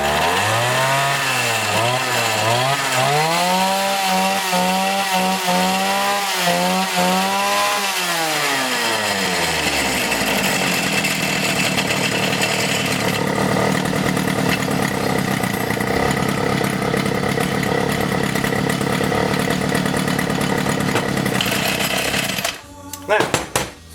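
A two-stroke weed eater engine fires up and revs loudly close by, its pitch climbing and wavering, then settles into a steady buzzing run for most of the clip before cutting out at the end.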